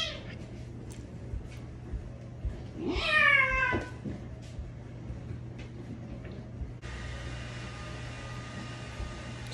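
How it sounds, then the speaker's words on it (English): Two cats scuffle indoors, one letting out a rising, wailing meow for about a second, with a few fainter cries around it over steady room hum and fan-like background noise. "She be fighting my cat."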